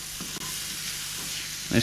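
Acorn squash pieces fry in a pan, giving a steady, close sizzle with a bright hissing texture throughout and a brief clatter at the end, without talk.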